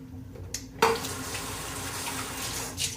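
Tap water runs into a shaving bowl, a steady close rush from the faucet that starts with a sudden splash and continues evenly, with a brief clink near the end.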